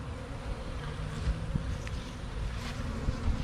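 Honey bees drone around a weakened hive that a swarm has taken over, a steady close buzzing hum with small shifts in pitch and no voices.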